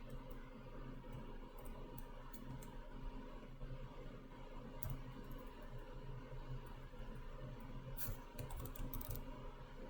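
Computer keyboard typing while someone writes code for a lesson on passing function arguments by value and by reference, soft irregular key clicks in short bursts over steady room noise, with no talking.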